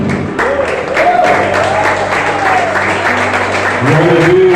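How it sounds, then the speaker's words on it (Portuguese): A church congregation stands and applauds, with steady, dense clapping throughout and a voice speaking over it, growing slightly louder near the end. "Vamos ficar de pé e vamos aplaudir o Senhor"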